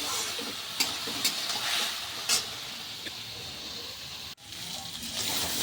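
Potatoes frying in a pan on a home stove, giving a steady close hiss and sizzle with a few brief stirring clatters and a short sharp break near the end.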